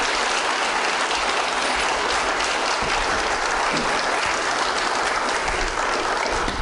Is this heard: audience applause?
yes